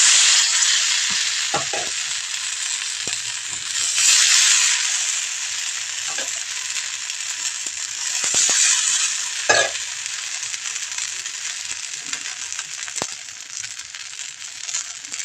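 Chitoi pitha batter is poured into an oiled pan and sizzles loudly and steadily at close range, with occasional clinks and knocks from utensils against the pan.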